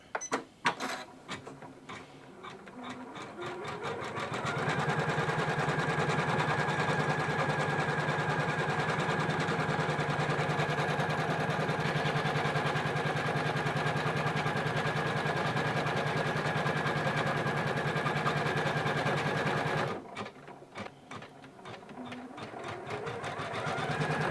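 A Janome embroidery sewing machine stitches a built-in design with a fast, even mechanical whirr that holds steady at close range for most of the clip. A few clicks and a short start-up come before it, and it slows and stops near the end.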